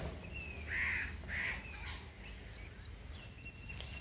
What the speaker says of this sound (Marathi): एवढा आवाज करतोय तो कावळा.